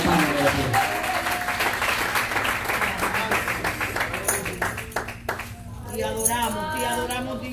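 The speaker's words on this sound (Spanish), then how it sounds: "Denle un aplauso fuerte a Dios, por favor." A church congregation at a special missionary service applauds, a dense steady clapping that fills the space for several seconds and thins out toward the end as voices and music come through.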